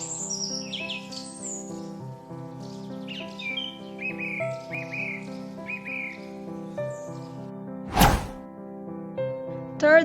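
A song thrush sings a string of bright, short whistled phrases over a steady sustained musical backdrop. A single sharp thunk cuts in near the end.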